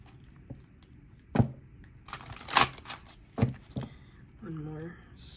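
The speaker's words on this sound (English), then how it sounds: "let me just shuffle a little bit" A deck of tarot cards is shuffled by hand in a quiet room, with a few sharp riffling bursts and soft card slaps spaced apart, followed briefly by a short voiced sound.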